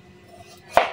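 A single sharp chop as a knife cuts through a papaya picked from a neighbor's tree, one loud close impact after a quiet moment.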